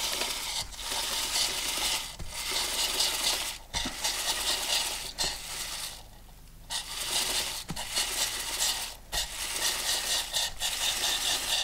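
Motorcycle chain turned by hand while cleaned with a Kettenmax Premium cleaner, giving close, continuous metallic clicking and rattling cut by regular short bursts of spray and brief pauses.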